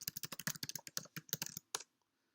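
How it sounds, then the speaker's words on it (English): Quick bursts of typing on a computer keyboard during a coding session, a dense run of close, crisp key clicks for about two seconds before falling silent, no speech. "I'm gonna first write down a link"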